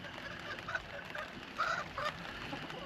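Chickens cluck and honk in short, scattered calls at moderate distance, with one louder squawk rising over a low outdoor background.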